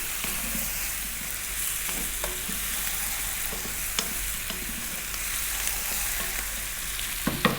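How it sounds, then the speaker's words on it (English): Spices fry in a pan with a constant loud sizzle, broken by occasional scraping clicks of a utensil stirring them around, close up and with no talking. "We're going to throw these around for 4 minutes. Keep it moving now because we've got the spices in."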